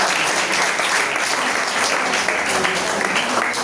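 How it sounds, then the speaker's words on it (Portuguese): An audience at a poetry evening in the Jaboatão dos Guararapes library applauds loudly and steadily, a thick wash of clapping that fills the short stretch without any talk on top. "E vamos dar uma salva de palmas."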